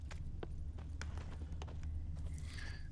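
Hooves of Roach, a horse in The Witcher 3, clopping in an even walking rhythm of sharp close taps over a low ambient hum.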